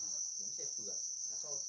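Crickets raised on a cricket farm in a rural Vietnamese commune chirp in a steady, high continuous trill, with a faint voice murmuring softly underneath.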